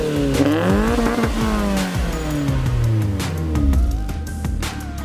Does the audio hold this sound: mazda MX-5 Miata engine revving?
yes